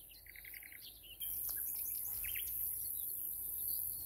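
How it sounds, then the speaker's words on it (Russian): Birds chirp and sing outdoors on a street near the mud lake in Golubitskaya: faint, scattered tweets and short calls over a soft hiss of background noise, with a hint of insects and no talking. "Слышите, как поют птицы?"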